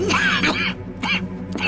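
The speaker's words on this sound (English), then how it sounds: "That's quite a cough." A man coughs and hacks harshly in a Red Dead Redemption 2 cutscene, a few rough bursts close up over a low steady background hum.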